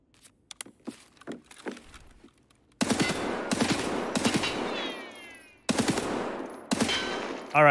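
Assault rifle gunfire with recoil in Escape From Tarkov: a few sparse early shots, then loud, sustained automatic bursts in several long strings separated by brief gaps, close and dominant.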